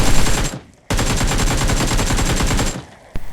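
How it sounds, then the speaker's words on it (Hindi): Automatic weapon fire from a battle royale shooter game rattles out in a loud, rapid, sustained burst, followed by a brief pause and one more sharp shot at the end. "तभी मुझे पीछे से फायर पड़ती है"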